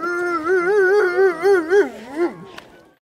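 Greenland sled dogs howl in a long, wavering, rising-and-falling chorus that is close and loud, then slides downward and trails off into near silence with a brief click at the end.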